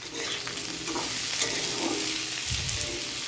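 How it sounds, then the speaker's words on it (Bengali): Potatoes frying in a pan, with a constant close sizzle broken by stirring scrapes and a low thump near the end. "আলুগুলি একটু ফ্রাই করে নিয়ে"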